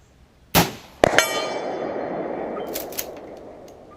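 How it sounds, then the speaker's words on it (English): A 12 gauge Foster rifled slug is fired at a steel gong target outdoors. A loud shotgun report comes first, then half a second later a bright metallic clang whose ring and rumble trail off over several seconds. "I think you're hitting just to the right on that gong"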